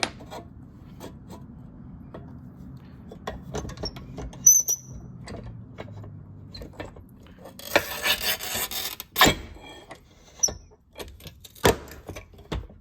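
A flat bed tile cutter scores and snaps mosaic tile, with scattered clicks and taps, a rasping scoring burst in the middle and a sharp snap, close and quiet.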